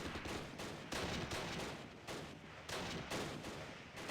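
Gunfire crackles through a battle in the Close Combat wargame, with repeated bursts and volleys of shots in quick rhythm. The firing is steady but moderately distant and muted, and no one speaks over it.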